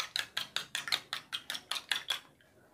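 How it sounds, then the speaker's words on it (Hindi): Egg being beaten briskly in a small glass, heard as about ten quick, evenly spaced clinks of utensil against glass, quiet and close, before stopping. "जैसे आमलेट को डालने के लिए मिक्स करते हैं ऐसा ठीक तरह से मिक्स कीजिए इसको"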